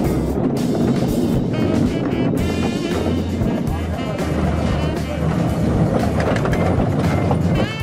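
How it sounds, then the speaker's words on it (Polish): A small train on a short railway line rumbles past with a steady, dense roar, rhythmic clicks of wheels over rail joints and some wind buffeting, loud and close throughout with a voice faintly underneath. "Trasa kolejki jest krótka, więc pociągi szybko wracają."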